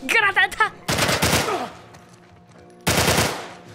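Bursts of automatic gunfire in The Last of Us, a short clipped voice at the start, then two loud rapid volleys separated by a quieter stretch.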